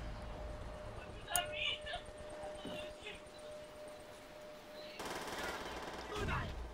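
Gunfire in the World War II shooter Call of Duty 5 (World at War) comes in a sustained broadband burst late in the moment, under a faint, busy game mix with a voice talking.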